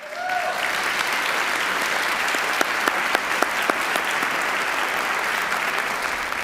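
Sustained, loud applause from an audience at a city council inaugural ceremony, dense clapping that holds steady throughout with a few sharper individual claps standing out.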